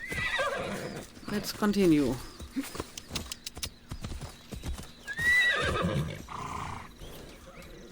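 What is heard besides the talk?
horse neighing and hooves in video game Assassin's Creed Odyssey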